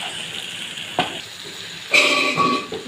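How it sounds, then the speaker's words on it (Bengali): A spatula scrapes and stirs egg batter with makhana in a frying pan, giving soft sizzling and a few sharp scraping knocks of the utensil against the pan. "এবারে আমি এই যে খুন্তি করে ঘেঁটে নেব।"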